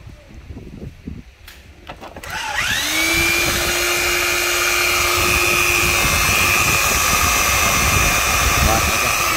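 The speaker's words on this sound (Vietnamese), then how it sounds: "Máy chạy êm luôn em nha." Hitachi TN500X machine started up from a few clicks and spun to a steady high whine with a sustained tone, loud and near, running smoothly for several seconds after a brief stretch of talk.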